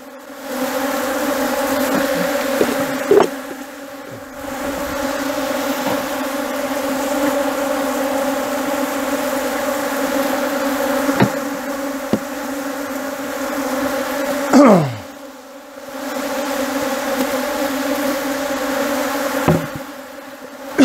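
Honey bees swarm around an open nest hive during a Brazilian honey harvest while frames and supers are handled, a steady, loud droning hum holding throughout with a few brief knocks and handling thumps.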